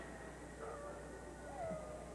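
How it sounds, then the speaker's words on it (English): Dogs howling at a distance on an evening, thin drawn-out wails rising and falling faintly over a steady low background hum, with no voices in the clip. "And don't those dogs ever shut up?"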